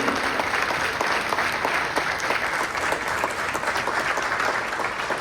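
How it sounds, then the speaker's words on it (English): Sustained applause from a crowd at a union general assembly in Puerto Rico, a dense, even clatter of many hands filling the room, steady and fairly loud throughout. "Give them a round of applause for helping to grow this great union"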